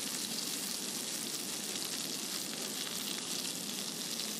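Shrimp sizzling steadily in hot oil in a pan as they are flipped to crisp up, a close, even hiss of frying that continues without a break or voices.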